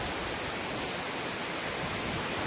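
Manache waterfall pouring from a great height, a steady, dense broadband roar of falling water filling the clip at constant loudness, close and continuous with no voices.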